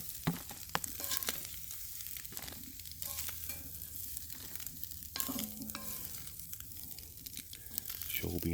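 Eggs fry on a homemade camp stove built from a propane tank and fired with oak wood, giving a steady close sizzle with scraping, stirring and crinkling sounds layered over it the whole way through.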